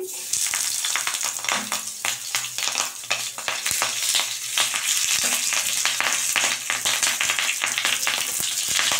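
Chhana paturi parcels sizzle and crackle as they are added one by one to hot oil, a dense, loud, steady frying hiss with sharp pops throughout, no talking.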